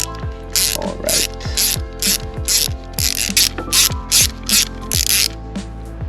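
A ratchet with an 8mm socket clicks steadily while turning a bolt on the front brake of a 2022 Honda Vision 110 scooter, with loud, close, regular strokes repeating about twice per second.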